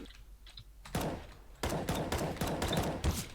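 Bursts of rapid CS:GO gunfire crackle loudly, a short volley followed by a pause, then several more sharp bursts in quick succession.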